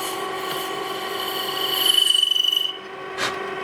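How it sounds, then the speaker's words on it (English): Woodworking on a mini metal lathe: a tool scrapes spinning wood with a steady raspy hiss that swells louder mid-clip before dropping away, with a soft knock near the end. "So this is basically woodworking on a metal lathe, and it works for me just fine."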